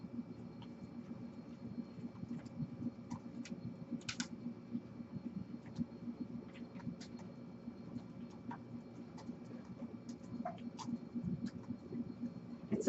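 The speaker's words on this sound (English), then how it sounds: "hear the clacking of keys" Computer keyboard keys clack in irregular bursts of typing, fairly close but soft, continuing throughout over a low steady room hum.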